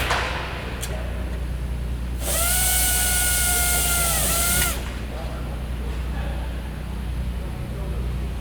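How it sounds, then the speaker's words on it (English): A power drill bores holes during restoration work on an Avro Lancaster bomber, one loud whining burst of about two seconds in a workshop with a steady hum behind it. "I've got to wait until they drill the hole to a certain size, then we go up to the next size"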